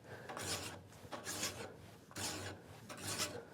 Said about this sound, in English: The file is usually the quickest way to get that bevel down to where you need it.